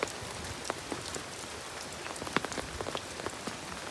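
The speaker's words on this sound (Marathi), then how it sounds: "पावसाने हाहाकार केलाय बघा" Heavy monsoon rain falls steadily in a village by a flooded river, a dense, even hiss of drops spattering on surfaces with scattered sharper near taps and no voices.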